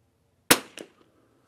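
Gunshots from a Savage rifle fitted with an Oryx chassis: one sharp, loud crack followed about a quarter second later by a weaker second report or echo, then a faint tick, with quiet before and after.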